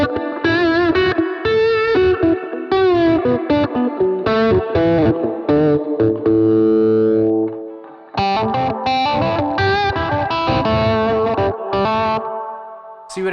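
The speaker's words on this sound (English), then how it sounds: "I'll put a little distortion on so you get an idea of what I'm talking about." Distorted electric guitar through a Max Pedals Phaser Beam pedal with a sweeping phaser effect, chords and sustained notes played loudly, briefly cutting out before resuming.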